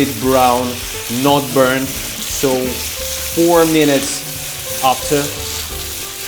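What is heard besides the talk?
stir-frying beef with garlic and ginger in a wok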